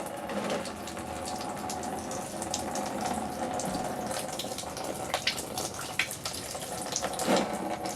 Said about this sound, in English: You're going to let this drain until it's completely empty.